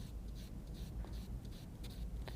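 A paintbrush strokes paint across a square masked off with tape, giving soft, close, steady scratchy brushing with quick repeated strokes at a low level.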